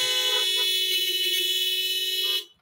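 Car horns blare together in one sustained, overlapping chorus for about two and a half seconds before cutting off abruptly, drivers honking their horns during a Sunday morning church service.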